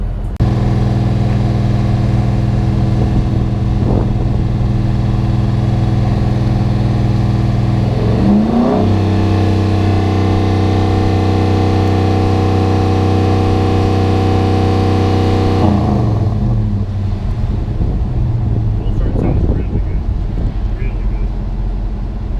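A Ram 1500 pickup with a 5.7L Hemi V8 and Gibson performance exhaust idles with a deep, steady burble, then revs up into a sustained, droning roar before dropping back to idle, close to the microphone.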